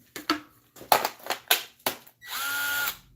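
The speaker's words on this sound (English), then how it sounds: "It's a little baby shop drill." Several short mechanical bursts and clatters, then a small drill whirs steadily for about a second at close range, sounding weak and slow.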